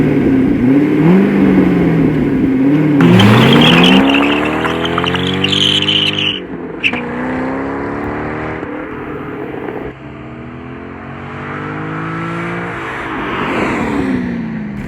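A Chevrolet Corvette C6 Z51 with a 6-speed transmission is driven hard on a track, its engine loud and close, revving and climbing through gears with rising and falling pitch sweeps and a brief shift break.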